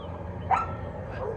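A dog barks once inside a house, a sharp bark that sounds muffled, followed by a fainter second yip, over a quiet outdoor background.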